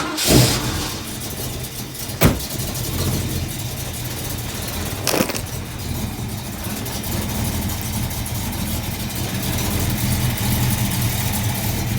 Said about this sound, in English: So this is my little high performance 351 Windsor